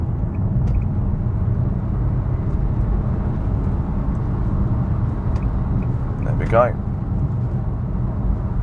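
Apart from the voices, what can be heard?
2020 Nissan Juke engine accelerating while overtaking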